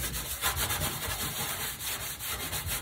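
An oven being scrubbed with cleaning paste gives a continuous, close, loud abrasive rubbing with a rapid back-and-forth rhythm that carries on steadily throughout, with no talking.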